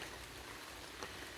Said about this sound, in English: Right, so you'll have to forgive the background noise. It's raining